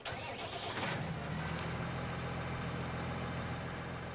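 A tractor engine in Farming Simulator 19 cranks and catches, then settles into a steady mid-pitched idle that runs on without interruption, with no one talking.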